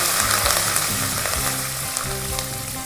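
Pepper, cumin, cashews and curry leaves frying in a pan, giving a loud, continuous close sizzle with faint crackles and a low hum underneath, no speech.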